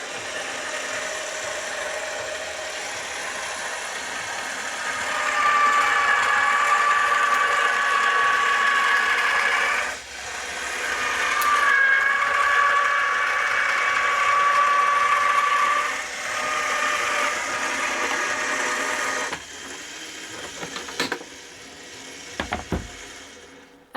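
An ebosser electric die cutting and dry embossing machine runs with a steady mechanical whir and gear clatter, pausing briefly midway, then stopping on its own near the end with a few faint clicks.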